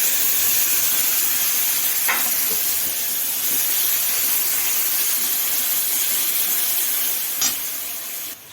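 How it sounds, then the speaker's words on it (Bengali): A dried red chili and five-spice tempering sizzles in hot oil, making a steady close hiss throughout with a couple of faint clicks, and no voices. "ফোড়নে দিয়ে দিচ্ছি একটা শুকনো লঙ্কা আর এই যে 5 ফোড়ন।"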